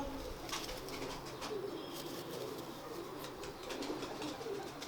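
Red eye pigeons cooing in a loft in Babra Town, soft repeated coos and light fluttering over a steady background murmur.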